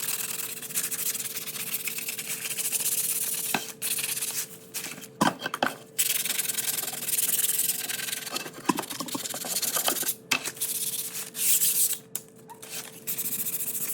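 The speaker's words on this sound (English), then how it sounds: "there was a little ASMR for you of the sanding. That was 220 grit sandpaper also" Steady rubbing rasp of 220-grit sandpaper on a painted surface, continuous strokes with a few brief pauses, close and fairly loud.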